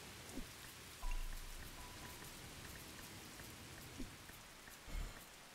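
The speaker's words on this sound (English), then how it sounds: "once the rain lets up and I can actually see" Steady rain in the survival game Polylithic patters and hisses continuously, with a few soft low thumps rising briefly above the downpour.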